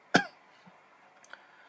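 A person gives one sharp, close cough and then goes quiet, with only a faint clearing sound a moment later.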